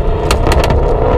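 A supercharged Ford Mustang GT350 blips its engine on a downshift, sending a loud, close burst of raspy exhaust and engine roar that holds steady for about a second.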